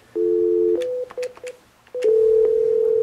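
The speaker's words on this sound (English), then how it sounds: "the phone should beep once and then not continue" Desk telephone in Do Not Disturb mode sounding a short electronic tone, then a few brief chirps, then a longer steady beep, clean and close with no talking.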